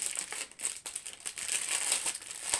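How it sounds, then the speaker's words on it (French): Plastic packets of AB diamond-painting drills are unwrapped, giving close, continuous crinkling and rustling with small crackles and no voices. "Je vais déballer les AB."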